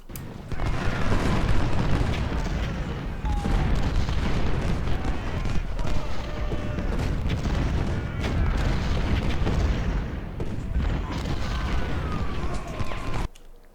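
Cannon artillery booms in the Civil War strategy game Ultimate General: Civil War, a dense, continuous barrage of heavy blasts and rumbling battle noise.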